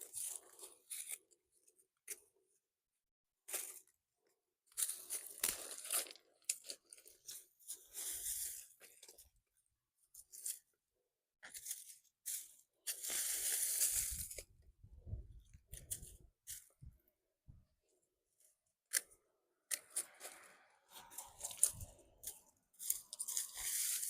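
Crunching and scraping in loose gravel around aeonium succulents during a garden clean-up, coming as scattered close bursts with pauses between, no talking.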